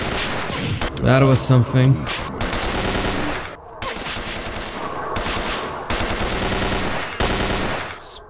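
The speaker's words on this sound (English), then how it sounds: "That's a gas rifle." Gas rifle gunfire in the horror shooter Radiophobia 3, rapid loud bursts of shots with dense echoing blasts that run almost continuously, and someone speaks briefly near the start.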